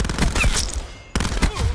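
Gunfire from a weapon in Call of Duty Black Ops 4, two loud, close bursts of shots separated by a short gap.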